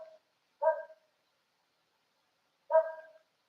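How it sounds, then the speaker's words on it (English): A dog barks twice, short sharp yaps separated by a couple of seconds of silence, close and clear. "What are you barking at?"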